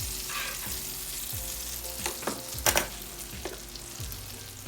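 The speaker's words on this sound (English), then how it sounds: "So I put in some butter as well." Butter sizzles loudly in a pan for roasted chicken hash, a dense continuous crackle close by with a few spoon or utensil knocks and scrapes, no voices.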